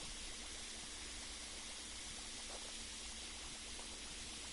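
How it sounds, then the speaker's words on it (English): Bubbling, rushing water in the PowerWash Simulator video game makes a steady, loud, unbroken hiss that fills the whole stretch, with no talking. "listen to that bubbling"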